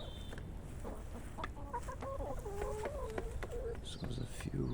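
Chickens cluck steadily in a chicken farm coop, with several birds overlapping in a busy, close chorus against constant low background noise.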